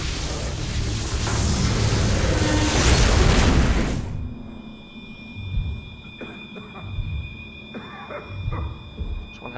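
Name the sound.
flashbang grenade explosion in StarCraft 2 video game cutscene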